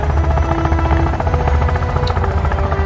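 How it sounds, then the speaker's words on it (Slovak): Helicopter in the video game Sons of the Forest, a steady loud rotor drone with low throbbing beats, continuous and close throughout, with no speech over it. "Akože helikoptéra helikoptéruje."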